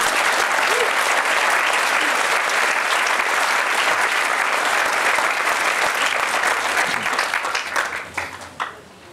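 A large audience at a 2022 high school graduation ceremony gives loud, sustained applause that carries on steadily for several seconds, then thins into scattered claps as it fades near the end.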